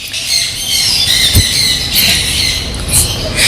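A flock of exotic birds at a bird park in Chittoor squawks and squeals, with shrill calls overlapping in a steady, busy chorus and a few sharper cries standing out.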